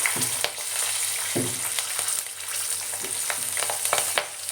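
Steady, loud sizzling of garlic and bird's-eye chillies frying in hot oil after mustard seeds have popped, with occasional pops and stirring scrapes throughout.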